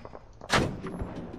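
Gunfire in the video game Arma 3: a single sharp, loud shot cracks out and then rolls off into a short echoing tail.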